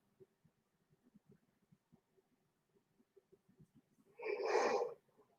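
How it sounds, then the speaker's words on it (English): A person yawns once near the end, a loud breathy exhale swelling after a stretch of faint, quiet breaths and small mouth sounds. "Oh, I can't stop yawning all of a sudden."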